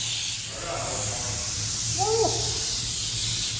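A spray gun lays primer or paint onto a Porsche 356 Speedster body with a continuous close hiss of spray, and a brief voice cuts in once beneath it.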